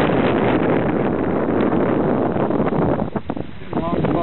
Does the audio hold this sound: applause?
no